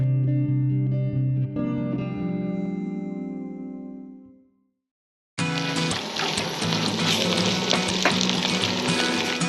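Bacon and egg scramble sizzling in a pan at an overland camp in Death Valley, a loud, dense, crackling sizzle that fills the second half after a tonal passage and a brief silence.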